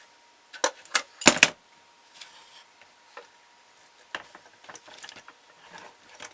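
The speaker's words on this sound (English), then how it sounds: "Then you can tighten it all down." Wooden clamps being cranked down on a carved wooden ventriloquist figure, giving a few sharp ratcheting clicks and creaks, then scattered lighter clicks and taps, close and fairly quiet with no talking.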